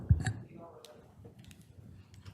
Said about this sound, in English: someone else is clicking